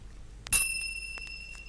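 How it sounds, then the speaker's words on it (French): A bright little bell chime rings out once with a sharp strike and long shimmering ring, followed by a few faint tinkles fading in a quiet room. "Elle fera tinter ses petites cloches comme ceci."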